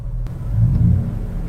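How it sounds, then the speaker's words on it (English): A car engine revs briefly in a short, loud, close low rumble that swells and holds. "You can see my throttle position changing as I rev it up."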